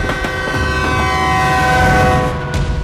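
A train in a film scene, its horn blaring loudly and steadily over a heavy rolling rumble from close by, with a few sharp clanks breaking through.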